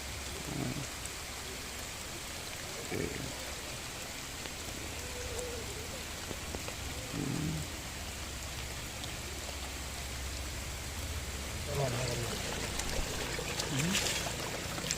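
Light pattering rain falls on a village pond swelling with water during fishing, a constant soft hiss of drops on the surface with a few brief, faint voices talking in the background.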